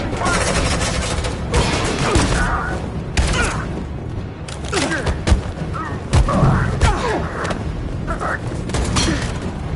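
Rapid bursts of suppressing gunfire and heavy thuds in a Detroit: Become Human firefight, loud and continuous throughout with impacts and crashes mixed in, while voices shout over the din.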